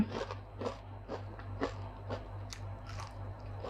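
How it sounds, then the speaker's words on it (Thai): Crisp homemade KFC-style fried chicken being bitten and chewed up close, a quick series of faint crunchy bites in a quiet room. "เดี๋ยวเรามาทานกันค่ะ จะกรอบไหม"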